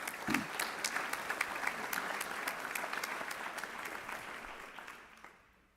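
Steady, dense applause from a large audience at a college student honors and awards reception, continuous clapping that holds for several seconds before fading out at the end.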